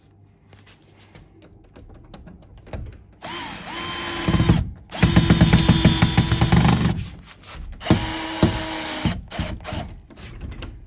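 A power drill drives three screws into wood to fit a lock, with bursts of whirring and ratcheting across the middle, loud and close, separated by short pauses and handling noise.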